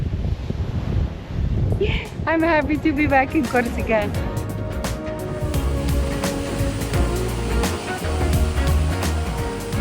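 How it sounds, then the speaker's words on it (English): Rough ocean surf and gusting wind on a beach in northwest Corsica with mountains behind, a steady loud roar under a person speaking throughout. "The ocean is rough,"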